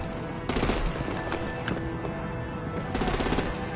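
Heavy artillery and automatic gunfire in a Batman video game, loud and close, with dense bursts at the start and again near the end, all under a continuous din of battle.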